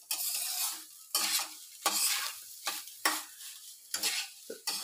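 Rice being stir-fried in a pan, with rhythmic bursts of scraping and sizzling as it is tossed about five times, close and fairly quiet, no voices.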